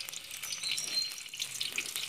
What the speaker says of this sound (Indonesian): Nah ini aku bakalan tumis, bakalan oseng-oseng kayak gini